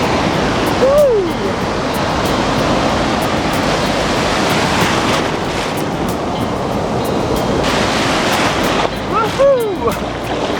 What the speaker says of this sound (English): I can feel the tide going out.